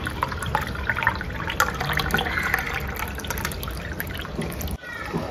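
Water is poured into a pressure cooker for biryani, a steady splashing trickle close by with a brief break near the end.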